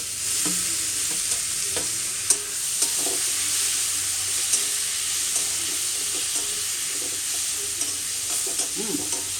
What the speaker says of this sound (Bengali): এটা দেওয়ার পরে এরকমভাবে নাড়িয়ে নেবেন